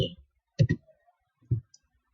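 Computer mouse clicking in GIS software, two quick clicks close together then a single click after a short pause, crisp and near in an otherwise quiet room.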